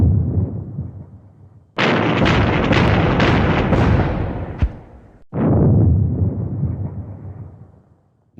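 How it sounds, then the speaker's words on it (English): Gunfire and artillery in Squad Battles: Eagles Strike erupt as two long, loud booming blasts, each rolling out and fading, separated by a short gap, with no talk. "let's get some firing downrange"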